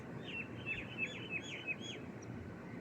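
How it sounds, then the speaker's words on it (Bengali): Morning birdsong outside a house where mynas gather: a run of about six short, bright chirps at a steady pace, moderately distant and fairly faint over a constant background hiss. "শুধু পাখির ডাক,"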